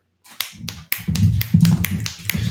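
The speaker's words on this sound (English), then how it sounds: "Snap your fingers" Several crisp finger snaps, close and fairly loud, land in an uneven rhythm over a low murmuring background.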